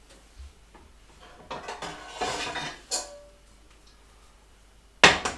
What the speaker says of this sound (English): I'm just going to get 2 large pans out